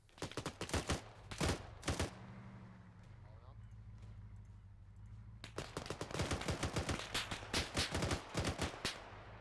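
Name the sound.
gunfire in the ARMA 3 video game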